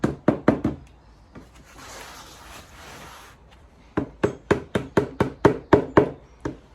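Rapid sharp knocks in quick bursts as door edge trim is whacked into a gloss black plywood door, several strikes in a row, then a pause with faint rustling before another long run of steady whacks.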